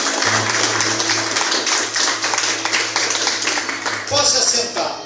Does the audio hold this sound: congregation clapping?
yes